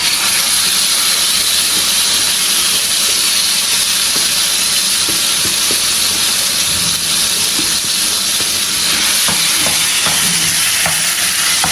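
Saag greens frying and being stirred in a pan with ginger and garlic, a steady loud sizzle and hiss running throughout, with scattered scraping stirs of the spoon and no talking.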